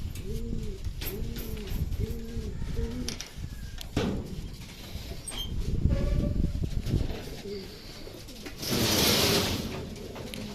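Pigeons coo in a steady repeating rhythm, several low rounded calls in a row, close by, with outdoor noise and a brief rustling burst later.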